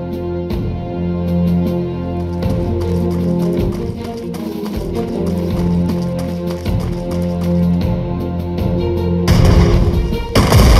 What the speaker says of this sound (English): Finish it off with the infantry armed with mortars.